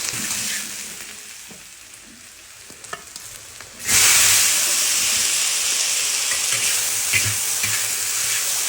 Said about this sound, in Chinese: 葱花下锅。